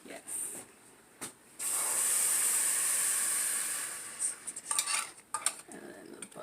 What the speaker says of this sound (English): Okay, so put the buttermilk in.